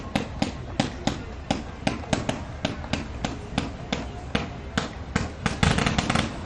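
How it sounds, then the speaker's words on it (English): Fireworks bursting at a holiday boat parade in Palm Beach, a rapid irregular run of sharp cracks and pops, close and loud, growing denser toward the end. "So once the fireworks pass,"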